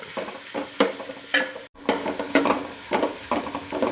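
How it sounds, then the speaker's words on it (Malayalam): Ripe jackfruit is stirred and sautéed in ghee in a pan. A close, soft sizzle runs throughout, broken by repeated scraping strokes of the spoon at an uneven rhythm. "ഈ നെയ്ക്കകത്ത് കിടന്ന് നമുക്കിത് നല്ലോണം ഇളക്കി കൊടുക്കുക."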